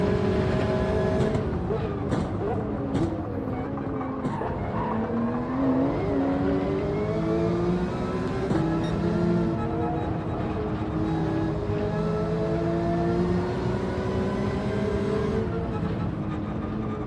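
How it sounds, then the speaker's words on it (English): A GT3 race car engine in Gran Turismo 7 at Laguna Seca drones and revs through gear shifts, its pitch climbing and dropping repeatedly, with other engines blending in the background. "The noise of that car behind the BRZ, super noisy."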